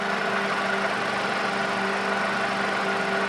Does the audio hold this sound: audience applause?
no